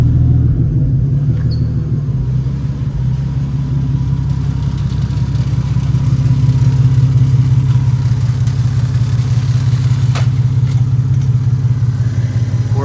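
A Toyota 2JZ-GTE engine swapped into a Nissan 300ZX, fitted with a drag pack, runs steadily after starting, a loud, continuous low rumble with slight fluctuations and no voices over it.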